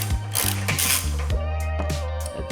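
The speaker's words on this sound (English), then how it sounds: "I'm gonna use a 3/4 size socket." A socket ratchet loosens the license plate bracket on a 2015-2021 Subaru WRX, giving rapid runs of close, loud mechanical clicks in several quick bursts with short pauses between them.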